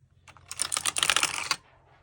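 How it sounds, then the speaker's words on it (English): Brief burst of quick, crisp keystrokes on a Razer Huntsman Pro Mini keyboard, close and fairly quiet, lasting about a second before stopping. "I have the Razer Huntsman Pro Mini."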